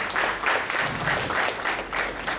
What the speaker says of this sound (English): Let's have a big round of applause for Sir too.